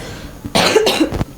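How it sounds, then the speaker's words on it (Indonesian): A person coughing on a podcast, two or three quick harsh coughs close to the mic, loud against a quiet room. "Sampai batuk nih."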